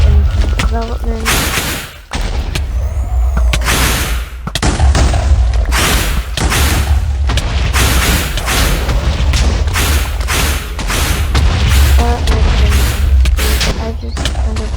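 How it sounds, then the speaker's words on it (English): The Minecraft Wither blowing up blocks in a modded game, a dense run of loud booming explosions one after another, close and heavy, with a voice talking over them. "This Wither is about to destroy this entire thing, because all these blocks get one shot by anything"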